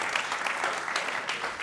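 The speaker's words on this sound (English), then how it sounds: "Give him a round of applause" An audience gives a brief burst of applause, with fairly loud, dense clapping that continues evenly for a moment.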